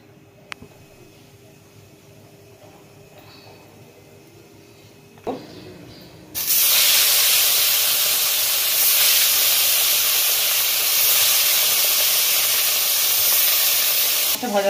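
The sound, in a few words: fish frying in a hot wok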